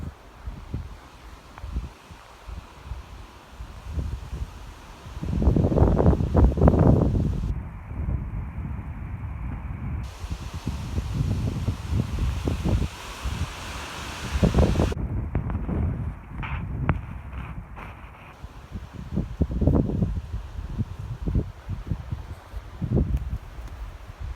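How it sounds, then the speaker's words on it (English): Wind gusts buffet the microphone in rumbling bursts on high ground during a UTV outing, swelling and easing over a steady outdoor hiss, with no voices. "It gets windy up here, you can tell."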